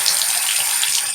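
Tap water runs steadily from a faucet while makeup brushes are rinsed under it, a continuous close hiss of flowing water with slight splashing, no talking.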